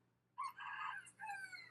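A rooster crows once in a backyard garden, a short clear call heard from moderate distance against an otherwise quiet background.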